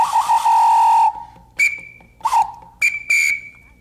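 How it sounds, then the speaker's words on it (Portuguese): Whistles at a festive gathering: one long shrill tone, then several shorter sharp blasts in an uneven rhythm, loud and close with no talking. "E os apitos com sons mais variados."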